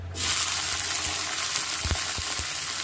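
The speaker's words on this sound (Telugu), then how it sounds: "స్పూన్ నూనె వేసుకున్నానండి. ఒక 15 వరకు పచ్చిమిర్చి కట్ చేసి వేసుకుంటున్నాను." About fifteen cut green chillies fry in a spoonful of oil, giving a steady loud sizzle throughout with a few sharp pops and stirring clicks.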